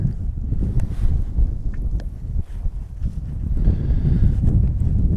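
Strong wind buffets the microphone beside open water during fly casting, a loud, continuous low roar with gusty swells and no talking.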